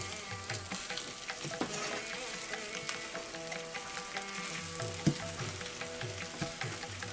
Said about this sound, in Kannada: ಉಪ್ಪು ಹಾಕ್ಬಿಟ್ಟು ಚೆನ್ನಾಗಿ ಮಿಕ್ಸ್ ಮಾಡಿ.